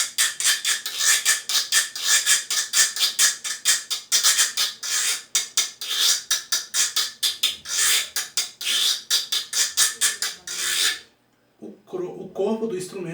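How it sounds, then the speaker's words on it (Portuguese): A reco-reco, a scraped idiophone, is rasped in quick rhythmic strokes, loud and close, for about eleven seconds before it stops and a voice briefly speaks. "o reco-reco, né?"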